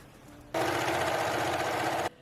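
A serger sewing machine runs in one quick burst of fast, rattling stitching, starting abruptly and stopping after about a second and a half in a quiet room.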